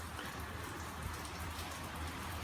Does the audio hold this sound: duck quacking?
no